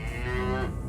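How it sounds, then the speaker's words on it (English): A cow moos on a country road near a dual carriageway, one long, loud, close low call held steady with a rising tonal streak, outdoor rumble continuing beneath. "Oh, it's not a bull, is it? That's a cow."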